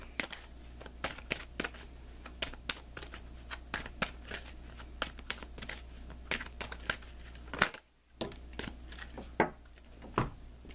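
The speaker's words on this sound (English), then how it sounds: "But let me pull you an additional guidance card." Tarot cards shuffled by hand in a quick riffling run of crisp slaps and flutters, ending in a brief pause before more card handling, with no talk over it.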